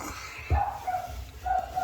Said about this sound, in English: And a barking dog,